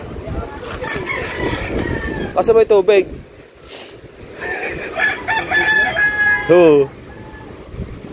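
A rooster crows twice, loud and close, between people talking over a steady outdoor background.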